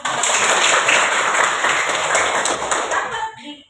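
Applause from a group of students in a classroom setting, dense steady clapping for about three seconds before tapering off at the end.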